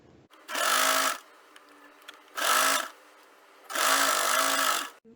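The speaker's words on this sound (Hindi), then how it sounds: "इसके बाद इसको मशीन से स्टिच करेंगे।" A sewing machine stitches along the folded edge of a sleeve hem in three loud, steady runs of about a second each, separated by short quiet pauses.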